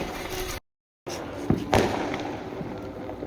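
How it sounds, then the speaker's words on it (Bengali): Diwali firecrackers burst at home, a couple of sharp pops over a loud, hissing roar of sparkling fireworks, with a brief dropout early on and voices mixed in. "চটপটি গুলো ফাটাও"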